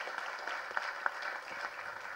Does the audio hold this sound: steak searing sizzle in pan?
no